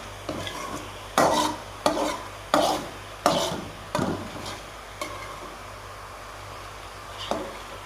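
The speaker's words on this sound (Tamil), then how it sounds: "இப்போ நல்லா பாயில் ஆகுது." A spoon scrapes and knocks around a pan of thickening palkova milk mixture in a series of distinct stirring strokes, loud at first and then softer, over a faint low simmering hum, with no talk.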